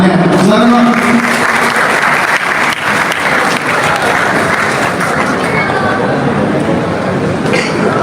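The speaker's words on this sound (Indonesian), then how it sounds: "kita berikan tepuk tangannya" Audience applause at a live discussion event in Medan, a loud sustained burst of many hands clapping with crowd noise and voices mixed in throughout.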